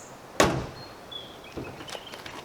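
A Jaguar F-Pace R-Sport's car door slams shut once, close and loud, with a sharp thunk followed by fainter mechanical clicks and rattles as it settles.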